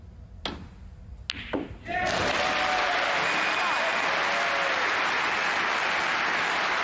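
A snooker crowd at the German Masters semi-final erupts into a loud, sustained roar and applause after a couple of sharp knocks, the cheering swelling suddenly and holding steady.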